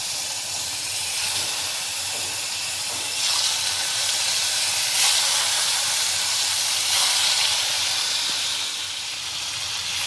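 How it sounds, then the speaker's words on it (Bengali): Hilsa fish pieces dropped one by one into hot mustard oil in a kadai, producing a constant loud hissing sizzle that swells slightly in the middle and holds steady throughout, with no speech. "তেল গরম হয়ে গেছে, এখন আমি এক এক করে মাছগুলো ছেড়ে দেব।"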